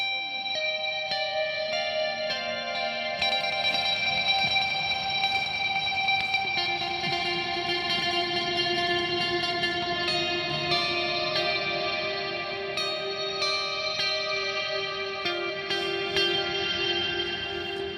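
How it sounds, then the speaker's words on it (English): Layered, effects-heavy music with sustained chorus-like tones that wash together, a long reverberant ambience filling the space without any voices. "Just let the reverb do its job and add its ambience to the song."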